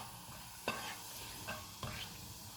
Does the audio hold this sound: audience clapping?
no